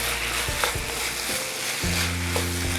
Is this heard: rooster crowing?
no